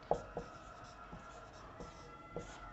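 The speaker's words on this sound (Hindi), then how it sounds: "यहां पर लिख रहा हूं" A marker or chalk taps and scratches on a board in short strokes while a teacher lectures, faint and fairly close, with pauses between the marks.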